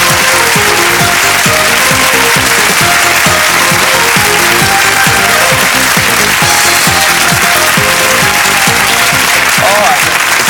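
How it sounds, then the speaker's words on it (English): Game show studio audience applauding loudly and steadily throughout, a dense clatter of many hands filling the whole stretch, with an occasional faint voice rising near the end. "let's give a nice round of applause"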